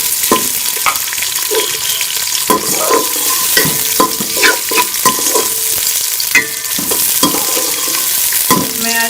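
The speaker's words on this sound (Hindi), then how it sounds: "इसके अंदर प्याज डाल देंगे और प्याज को हल्का सा हम ब्राउन कर लेंगे।" Onions fry in ghee in a pan, crackling and hissing loudly and up close, while a spoon stirs and scrapes the pan bottom in repeated strokes and knocks, with no one talking.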